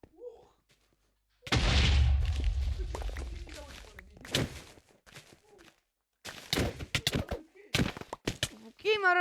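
A Minecraft TNT explosion bursts out as a loud, sudden broadband blast that rumbles for a couple of seconds, followed by scattered thuds and cracks, with a voice talking at points.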